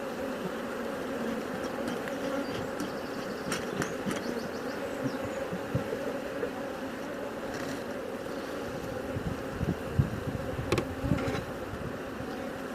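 A large honey bee colony buzzing during an open hive inspection: a dense, continuous drone from many bees close by, with small knocks and clicks from handling frames and no voices.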